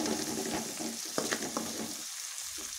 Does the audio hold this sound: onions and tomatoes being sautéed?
yes